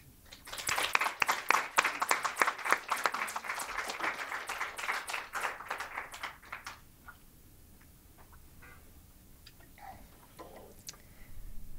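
Applause from a lung cancer awareness program audience, a burst of dense clapping that is loud at first, then thins to scattered claps and quiet murmur after about seven seconds.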